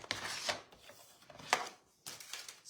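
Scissors trimming white cardstock while modifying a handmade greeting card: a few close, crisp snipping and rustling bursts at uneven intervals, with no talking.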